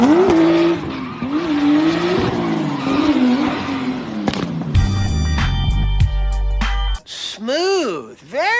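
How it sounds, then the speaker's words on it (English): A drifting car with tires squealing in long wavering screeches and a revving engine, then a loud burst and more rising and falling squeals, loud and close. "Drifting when done right looks like this."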